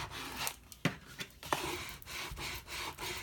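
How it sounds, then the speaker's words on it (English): Glitter vinyl is rubbed onto a canvas in short, scratchy strokes, a quiet rasping rhythm of brief swipes repeated close by. "Do some more rubbing."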